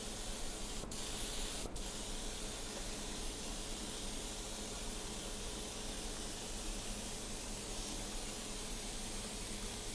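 A steady, continuous hiss of a chocolate velvet spray nozzle coating a cake runs throughout, even and close, with two brief sharp clicks near the start.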